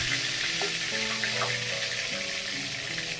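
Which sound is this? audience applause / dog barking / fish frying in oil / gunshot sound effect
fish frying in oil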